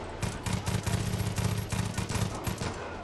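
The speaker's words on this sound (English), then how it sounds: "I'm like shooting right above them" Gunfire in Far Cry 5: rapid bursts of automatic weapon fire, close and punchy, repeating in quick clusters with brief gaps across the whole stretch.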